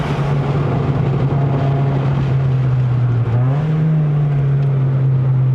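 A Toyota Vios 1.5J NCP93 with a five-speed manual climbing the Genting hill road in Malaysia, its engine droning loud and steady from inside the cabin, pitch dipping briefly at a shift then holding.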